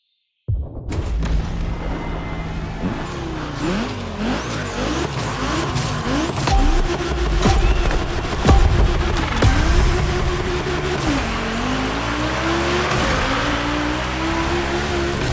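A turbocharged Audi-style Coupe Quattro races through a gymkhana course in The Crew Motorfest, engine revving up and down with tire squeals and skids, loud and continuous with no talk.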